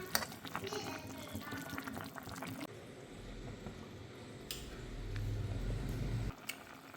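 Chicken simmers in a pot of water with chopped vegetables, violet cabbage and ginger garlic paste, giving a low bubbling rumble that builds toward the end, while someone talks over the first half.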